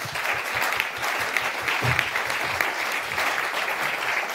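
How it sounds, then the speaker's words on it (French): Applause from a seated audience at the close of a French round-table discussion on care, steady and moderately loud throughout with no talk over it. "On peut les applaudir encore"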